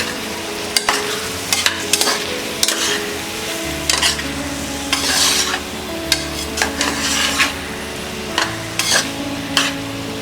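A broken wheat dalia khichdi mixture with moong dal is stirred in a pan, producing repeated scraping and clanking strokes over a constant low hum and gentle sizzle, near and clear with no speech.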